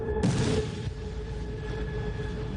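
A single muffled blast from a kamikaze drone attack on Kyiv booms in the distance, a sudden burst that fades into a low rumbling background.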